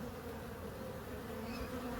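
Honeybees in a hive during queen introduction in December, a dense continuous buzzing hum held steady and close throughout, with no voices.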